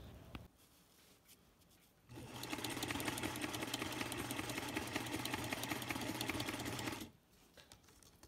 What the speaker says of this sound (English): Hopefully my sewing machine cooperates.